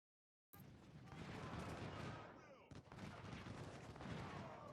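Artillery canister fire in Ultimate General Civil War, a dense rumbling barrage of overlapping booms and crackling shots that starts abruptly after silence and continues steadily, with a brief dip midway.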